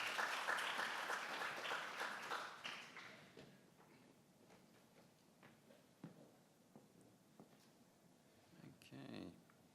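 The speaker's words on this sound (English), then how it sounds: "Let's give a round of applause." An audience at a university faculty event claps briefly and loudly for a few seconds, then the applause fades to scattered footsteps, taps and light rustling as someone walks up to the front.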